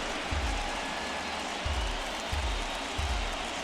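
Stadium crowd noise from the MLB The Show 21 baseball game, with Ohtani pitching to Mancini, a steady broad roar with low rumbling swells rising every second or so.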